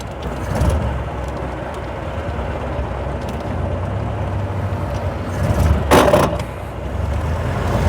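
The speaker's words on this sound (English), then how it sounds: "Oh, lots and lots of other traffic." Steady rumble of road traffic flowing past a 1932 Austin Heavy 12/4 Windsor on a small, busy road, with one louder vehicle sweeping close by near the end.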